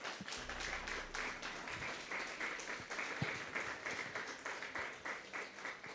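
Steady applause from a church congregation, many hands clapping together in a dense, continuous wash that holds evenly for several seconds at moderate distance, with a faint low hum underneath.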